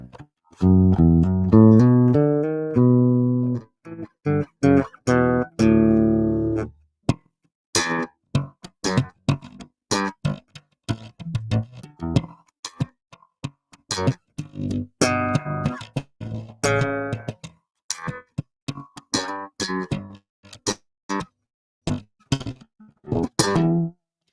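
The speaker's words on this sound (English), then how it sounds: "So without the pedal, regular bass tone" Bass guitar with its regular, unprocessed tone and no Digitech Drop pedal, first playing a short melodic run and then a long stretch of punchy, clipped plucked notes in a choppy rhythm, close and dry.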